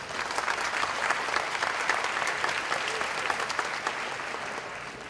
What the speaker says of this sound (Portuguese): Vamos recebê-la com uma salva de palmas.